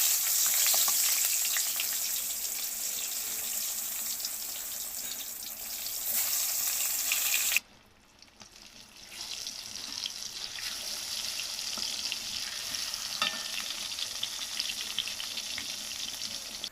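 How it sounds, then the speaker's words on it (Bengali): Spiced eggplant slices fry in hot oil with a loud, continuous crackling sizzle that drops briefly for a moment, then resumes and holds steady with no talking. "তেলটা গরম হয়ে গেছে। এবার আমি বেগুন দেবো।"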